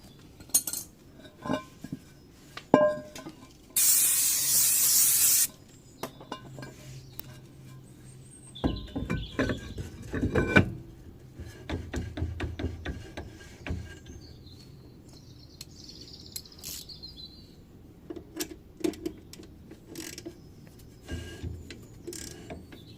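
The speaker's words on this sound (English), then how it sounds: "So I'm going to put the hub cover back on, and then we'll adjust it till it's a little bit tighter." A hub cover is refitted and the rear drum brake adjusted on an MGB GT, giving scattered metallic clinks, taps and ratcheting clicks up close, with a short loud hiss-like burst early and quiet gaps between.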